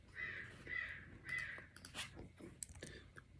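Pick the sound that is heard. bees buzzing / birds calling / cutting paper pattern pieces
birds calling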